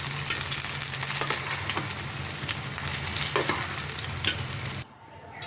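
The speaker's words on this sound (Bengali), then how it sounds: "বেগুনগুলো উল্টে এপিট এপিট করে ভালো করে ভেজে নিলাম।" Eggplant pieces crackle and sizzle in a kadai of oil as they are turned and browned, a dense continuous frying hiss that cuts off abruptly near the end.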